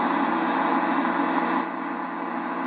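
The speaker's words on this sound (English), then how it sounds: "there's a lot of static on AM right now" AM radio static from a Yaesu FT-2000 transceiver, a steady, loud, band-limited hiss and crackle that runs without a break and dips slightly in level partway through.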